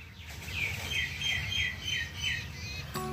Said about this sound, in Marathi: हे कावळे किती जमले